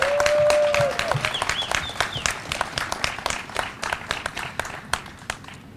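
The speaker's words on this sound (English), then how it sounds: "Let's give Michelle another round of applause." A crowd claps outdoors at a Juneteenth flag raising, the applause building right after an amplified voice and going on as a loose, uneven patter of many hands with separate sharp claps.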